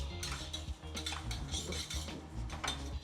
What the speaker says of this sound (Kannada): ಆರಾಮಾಗಿ ಸ್ಲೋವಾಗಿ ತಿರ್ಸ್ತಾ ಇರ್ಬೇಕು.